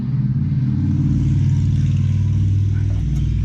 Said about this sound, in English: Noisy motorcycles.